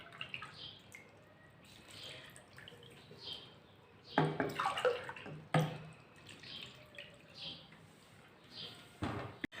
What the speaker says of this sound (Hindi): 2 गिलास भर के